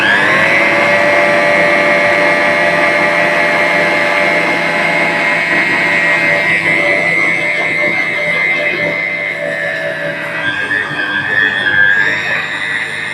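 An Agaro stand mixer kneads sifted flour with a little water into dough. Its motor gives a steady, loud whirring hum with a high whine that holds throughout, dipping slightly and shifting pitch toward the end.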